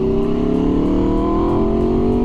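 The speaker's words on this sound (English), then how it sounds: "that Leo Vinci sounds good. But what doesn't on an Aprilia V4?" Aprilia RSV4 V4 sport motorcycle fitted with a Leo Vince exhaust, holding a steady, loud, close rev with a deep throaty drone and a slowly climbing pitch throughout, no voices.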